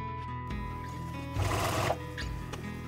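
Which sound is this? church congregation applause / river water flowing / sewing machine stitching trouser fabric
sewing machine stitching trouser fabric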